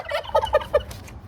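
A turkey gobbles once in a quick warbling burst of four or five throaty notes, close by and alone.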